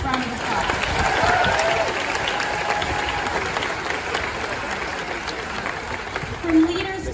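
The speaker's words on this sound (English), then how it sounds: "Let's give them another round of applause." Applause for cast members at a Disney's Hollywood Studios 35th anniversary celebration show, a sustained crowd clapping that swells early and slowly fades, with a voice speaking over it.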